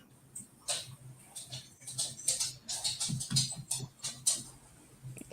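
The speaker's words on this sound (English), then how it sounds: "We're hearing you typing." Rapid irregular clicks of keys being typed on a keyboard during an online developer session, close and fairly quiet, in bursts with short pauses.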